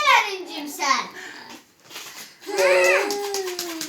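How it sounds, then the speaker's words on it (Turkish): Young girl crying and wailing in a home, sobbing bursts with rising, drawn-out cries, near and loud, with an adult talking in between. "Arin ağlıyor."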